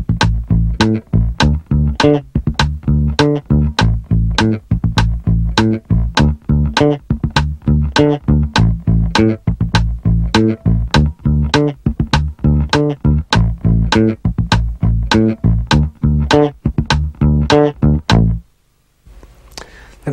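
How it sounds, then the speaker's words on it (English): Fingerstyle funk electric bass line, a steady stream of fast sixteenth-note plucks with muted percussive ghost notes between pitched notes, loud and close, played alone before stopping abruptly near the end. "I use this a lot because the ghost notes give me a percussive attack to set up the next downbeat."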